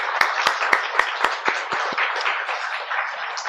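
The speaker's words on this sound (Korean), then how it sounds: "여러분, 주님 앞에 우리 다시 한번 큰 박수로 한번 영광을 올리겠습니다." Congregation applauding at a Christmas celebration service in a church, sharp claps rising loud at first then blending into a dense, steady ovation from many hands.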